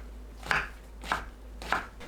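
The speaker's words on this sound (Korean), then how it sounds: "느타리 버섯은 지저분한 밑동 손질 후 작게 썰어주세요" Knife chopping trimmed oyster mushrooms into small pieces on a cutting board, three evenly spaced, crisp thuds, close and quiet, with no talk.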